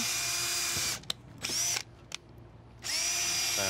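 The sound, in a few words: power drill drilling holes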